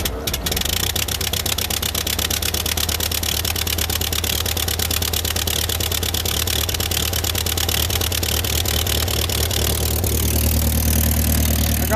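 A 1946 Ford 2N tractor engine idles after a cold start, a close, loud, steady rapid chugging putter with a low throb that runs throughout and roughens slightly near the end.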